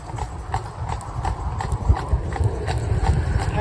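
Cob horse hooves clip-clop in a steady rhythm on a hard road, close by, over a low rumbling background.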